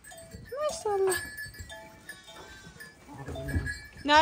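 Sheep and newborn lambs bleat in a village barn, with several calls close by in irregular bursts, some high and thin like lambs, others deeper, mixed with rustling and soft background noise.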